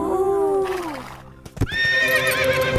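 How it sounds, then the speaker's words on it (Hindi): A horse whinnies loudly with a falling, wavering neigh, then after a short pause hooves thud and clatter close by before a second bright neigh rings out, in a mythological Hindi film scene. "अब तो मैं इस घोड़े को अपने पास ही रखूंगा।"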